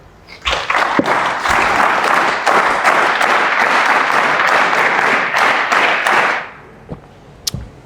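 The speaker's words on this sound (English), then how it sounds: "You should clap." An audience claps for a cadet at an Indian Army SSB training session: sustained, dense applause swells in quickly, holds steady for about six seconds, then fades, with a few isolated claps trailing after.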